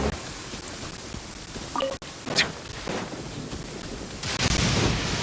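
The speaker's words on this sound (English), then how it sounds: "This heavy rain must be quite an inconvenience for you." Heavy rain falls steadily in the video game Genshin Impact, a continuous dense hiss with a few brief sharper crackles, loudest near the end.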